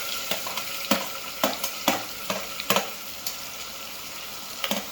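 A spoon stirs peas, onion and potato sizzling in a pan for masala khichdi, with irregular scraping knocks against the pan over a steady soft frying hiss, close and fairly quiet.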